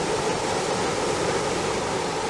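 The East Twin River flows in a steady, close rushing wash of water, a constant broad noise with no pauses and no voices.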